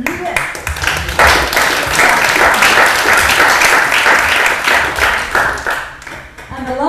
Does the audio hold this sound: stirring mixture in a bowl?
no